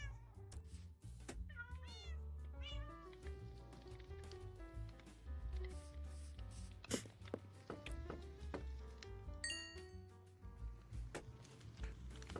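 A cat meows repeatedly as a stream follow alert, the meows rising over a steady musical bed with some taps and clicks mixed in.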